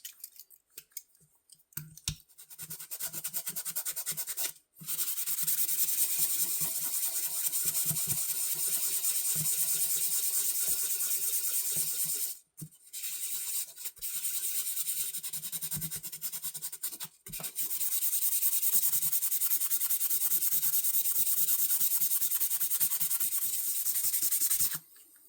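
Knife blades are rubbed with 1000-grit sandpaper in a close, continuous abrasive scraping that runs for long stretches, broken by a few brief pauses. No one speaks.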